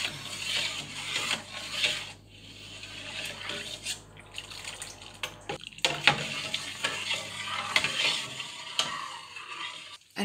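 Homemade laundry detergent made from Le Fer à Cheval Marseille soap is stirred in a container, giving quiet, irregular liquid sloshing and scraping with occasional knocks against the sides, close and soft.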